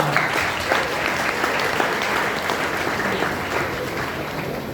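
Audience applause at a medical university spandan cultural event in Pune, a dense, loud and steady clapping from a large crowd that holds evenly throughout, with a faint murmur of voices mixed in.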